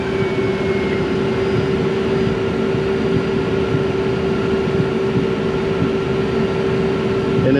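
A Cessna taxiing, heard as a steady, loud engine drone and broadband rumble from inside the cabin with a constant hum, unchanging throughout.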